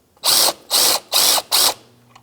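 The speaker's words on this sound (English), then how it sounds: "Now we're going to loosen up the alternator belt tensioner, 12mm socket." A hand ratchet with a 12mm socket loosens the alternator belt tensioner on a 2004-2009 Subaru Outback, giving four loud, even bursts of rapid clicking separated by short pauses, close up with no talking.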